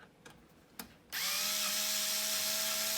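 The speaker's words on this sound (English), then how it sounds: "Now we have 2 screws on this side and 2 screws on that side. We'll take them out." A power driver whirs loudly as it backs screws out of a KitchenAid Pro 600 stand mixer. A couple of faint clicks come first, then the motor starts abruptly and runs steadily to the end.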